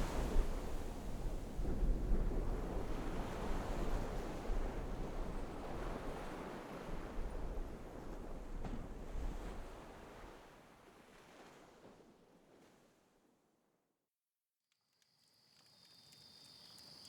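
Waves wash onto a beach in a steady rolling roar with wind gusting across the microphone, loud at first then easing to near silence before faint wind returns.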